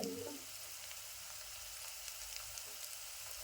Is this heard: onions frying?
yes